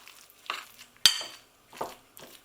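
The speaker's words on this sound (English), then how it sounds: "as you stir this into the warm soya, you start to get the aroma" A utensil stirs seasoning into warm soya mince in a pan, giving a few scattered scrapes and one sharp metallic clink amid near silence.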